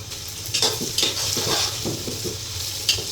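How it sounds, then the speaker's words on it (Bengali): Whole spices and about fifteen bay leaves are stirred in hot oil in a frying pan for beef bhuna, with a steady sizzle broken by repeated scraping strokes and light knocks of the spatula. "এগুলো একটু নেড়ে দিব।"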